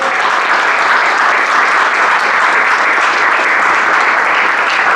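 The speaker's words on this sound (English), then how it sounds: "give yourself a round of applause" Sustained, loud applause from a crowd filling a room at a Sheffield talk on street art and murals; an even wash of clapping from start to finish.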